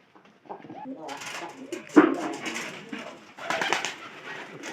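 Pigeons coo softly in low, throaty bursts, close by, with some light rustling and a voice speaking now and then.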